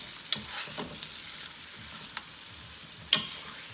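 Short ribs browning in a pan give a steady sizzle with occasional sharper spits and a couple of clattering bumps as the meat is moved, close and clear with no talking.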